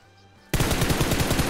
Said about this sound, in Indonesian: Kok ada nembak gua?